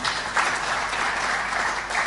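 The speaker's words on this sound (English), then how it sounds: "let's give her a very, very warm clap" A crowd at an IGAD address claps steadily and warmly throughout, a dense continuous patter of applause with no voices standing out.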